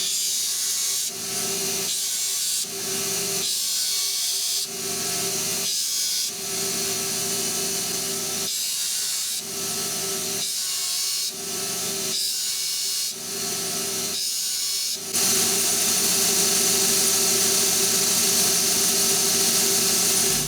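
A saw cuts through brass stock in a fabrication shop with steady, rhythmic back-and-forth strokes separated by brief pauses, then changes to a continuous, harsher cutting sound near the end.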